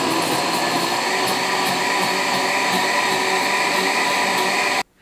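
A kitchen blender whirs steadily as it blends flan ingredients, a loud, even mechanical drone that keeps going and then cuts off abruptly at the end.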